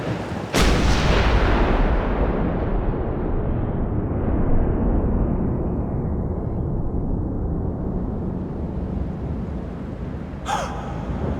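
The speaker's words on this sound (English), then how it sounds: "Gunfire!" A single loud gunshot cracks out in the video game Max Payne 2, followed by a long rumbling roar that slowly fades, with a faint sharp sound near the end.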